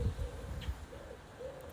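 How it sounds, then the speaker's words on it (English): A bird, likely a pigeon or dove, gives a few soft cooing calls at a moderate distance, a low repeated hoot heard against quiet background noise. "Oh, bird."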